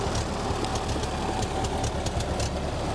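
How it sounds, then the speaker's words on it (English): A tractor engine runs steadily outdoors with a low, chugging, knocking rumble at an even pace, fairly quiet and with no voices. "With Grandpa on the tractor."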